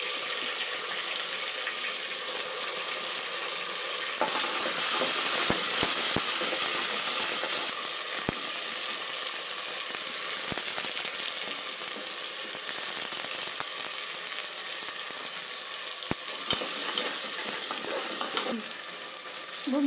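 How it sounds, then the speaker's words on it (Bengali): Onion, garlic and ginger paste fry in a pan for chicken khichuri, a loud, dense, continuous sizzle close by, with occasional sharp scraping stirs and no talk. "এখন দিব পেঁয়াজ, রসুন, আদা বাটা"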